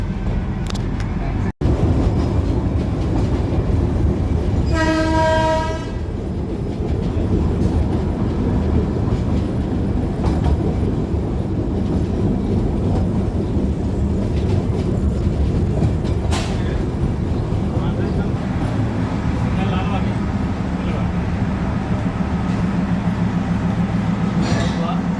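The Darjeeling toy train pulls out of New Jalpaiguri station, its carriages rumbling and rattling steadily throughout from on board, with a brief horn-like tone partway through and occasional knocks.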